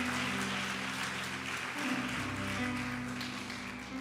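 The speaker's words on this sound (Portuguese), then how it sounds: "Dá um aplauso, dá um aplauso." A church congregation at a celebration service claps in steady, dense applause, heard alongside sustained music tones.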